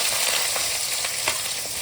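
Steady, dense sizzling of onions frying in hot oil for gongura curry, close and fairly loud, with faint soft stirring taps and no voices.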